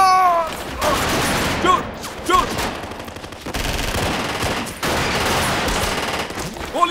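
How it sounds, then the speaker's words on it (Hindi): Bursts of rapid automatic gunfire rattle through a movie fight scene during an enemy lair infiltration, loud and close in long volleys with brief gaps, with shouting voices mixed in. "गोलियां चलाते रहो, चलाते रहो, रुको मत।"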